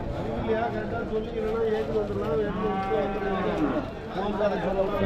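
Cattle moo repeatedly in long, low drawn-out calls, loud and close, over a steady background of voices and noise at the Vaniyambadi cattle market.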